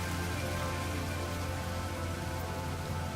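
Steady acid rain falls across a mushroom-covered alien planet in No Man's Sky, a dense, even hiss of drops on the ground with a low hum beneath, constant and unbroken throughout.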